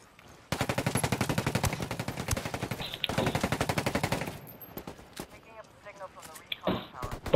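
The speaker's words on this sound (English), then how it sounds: "He's shooting at me." Rapid automatic gunfire in a video game, a long fast burst, a brief pause, then another burst, followed by scattered shots and movement sounds, with a voice talking over parts of it.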